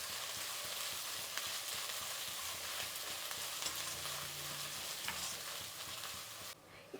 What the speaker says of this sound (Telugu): ఇప్పుడు అల్లం వెల్లుల్లి పేస్ట్ వేసుకుందాము. ఇప్పుడు దీన్ని బాగా కలబెట్టుకుందాం.